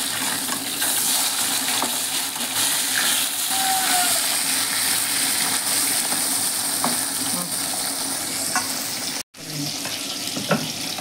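Pieces of foli fish rubbed with turmeric and salt sizzle loudly and continuously in oil in a wok, close up, with a few utensil knocks as they are turned and a brief cut to silence near the end.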